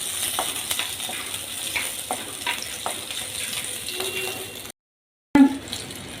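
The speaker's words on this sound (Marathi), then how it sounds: "ह्या पण जरा आपण थोडं फ्राय करून घेऊया" Onion petals frying in a pan for veg khandvi, a steady close sizzle with light scraping and tapping of a spatula, a short gap of silence, then a clink and more frying.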